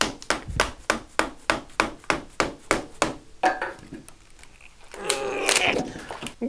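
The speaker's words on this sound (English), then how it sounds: "I'm gonna whack and chisel this for a little bit, get this cleaned off" A mallet strikes a chisel to knock bark off a wood blank meant for the lathe, with about a dozen sharp, evenly spaced knocks, then a pause and a scraping, rustling clatter as the bark comes loose.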